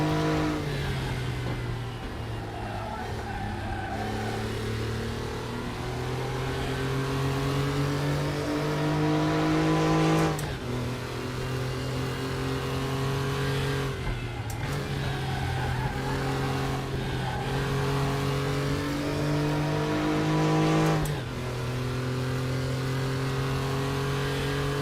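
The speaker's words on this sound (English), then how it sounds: "Right, on the throttle again, way too early." An old Porsche race car in RaceRoom Racing Experience roars steadily through the gears, rising engine pitch broken by repeated shifts and lifts roughly every few seconds, loud and continuous with no talk.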